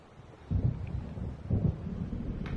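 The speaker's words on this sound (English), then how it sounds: "It seems there's a storm coming." Thunderstorm rolling in during the video game Alan Wake Remastered: two low, heavy rumbles of thunder swell and fade over a faint background of wind and rain.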